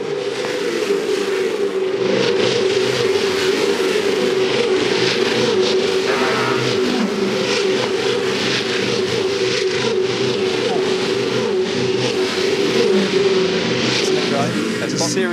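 Supercars race car engine roaring steadily as it accelerates out of the pit lane after a refuel, a loud sustained drone with commentary running over it throughout.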